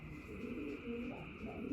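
Racing pigeons coo softly in their loft at night, with a few low, rolling coos rising and falling over a faint steady hum and quiet background.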